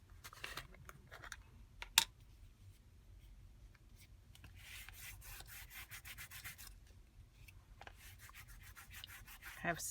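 Black Gilder's wax paste rubbed lightly onto a surface with a fingertip, a soft, close, continuous scuffing that swells and fades in faint strokes, with a sharp little tap early on and no talking.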